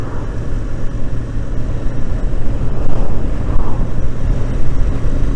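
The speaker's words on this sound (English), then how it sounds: "It's a very windy day today." Heavy wind buffeting a microphone, a constant low rumble that swells and gusts throughout with no voices.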